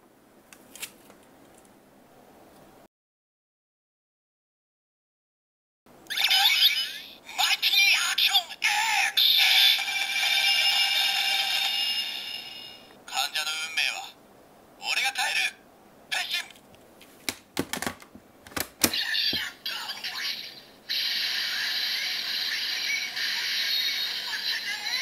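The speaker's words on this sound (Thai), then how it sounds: "เสียงสำหรับการแปลงร่างเป็นเลเวล1" A Kamen Rider Ex-Aid DX Gamer Driver toy belt plays its level 1 transformation sequence: loud electronic bursts and voice-like sounds separated by mechanical clicks and short silent gaps, close to the device.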